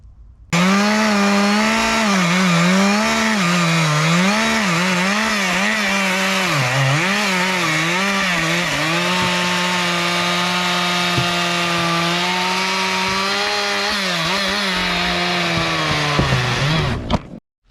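A chainsaw trims a large old-growth tree trunk at a homestead woodlot, running loud and close almost continuously for about seventeen seconds, its pitch rising and dipping as the chain bites into the wood, then cutting off abruptly near the end.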